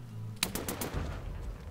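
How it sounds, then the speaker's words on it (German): Gunfire in the survival video game DayZ: a sharp nearby shot followed by a quick burst of several more rapid reports, ringing out over low ambient hum with no talk. "Schuss. Wer schießt?"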